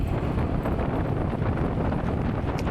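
Strong wind buffets the microphone during a motorcycle ride on a Suzuki Burgman Street 125EX scooter along a quiet road, a steady loud low roar that continues for the whole stretch without a break.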